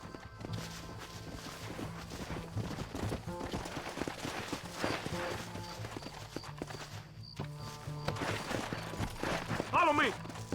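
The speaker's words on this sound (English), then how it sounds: "Get on your horse." Horse hooves clip-clop at a steady trot in the Red Dead Redemption video game. The rhythmic beat sits under a busy mix of game music, voices and rumbling ambience, growing a little louder near the end.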